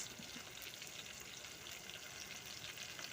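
Chopped garlic and green chilies fry in a pan with onions, giving a faint, steady sizzle and crackle that goes on throughout.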